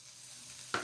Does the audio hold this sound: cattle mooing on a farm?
no